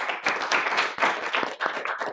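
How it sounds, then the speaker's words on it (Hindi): A small group in an acting audition class claps for new students, with distinct, uneven hand claps in a quick irregular rhythm, close and fairly clear throughout. "तो उनके लिए भी तालियां।"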